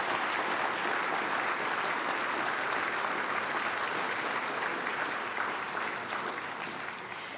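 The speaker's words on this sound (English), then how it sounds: "Let's give them all a round of applause." Sustained audience applause at an agency honor awards ceremony at NASA Johnson Space Center, a steady dense wash of clapping from a large crowd that holds throughout and eases slightly near the end.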